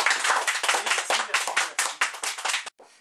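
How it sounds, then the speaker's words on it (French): A small group claps in a quick, uneven rhythm on a French quiz-show parody, each distinct hand strike close and crisp before the clapping stops abruptly near the end. "On peut applaudir."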